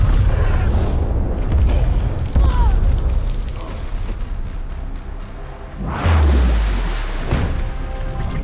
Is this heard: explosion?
yes